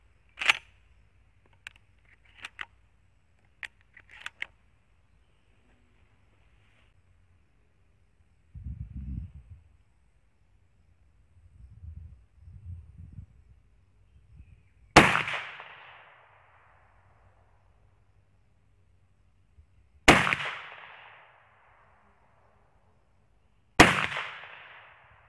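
Three sharp, loud shotgun blasts fired at 40 metres with Sterling lead-shot shells, 4 shot through a 71 barrel choke, each ringing briefly and spaced several seconds apart after softer handling clicks and thumps.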